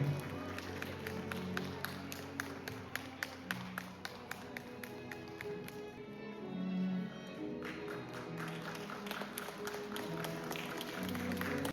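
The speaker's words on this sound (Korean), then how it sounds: "다시 한번 큰 박수 부탁드리겠습니다." Steady applause from wedding guests fills the whole stretch, with music playing underneath and scattered sharper claps standing out.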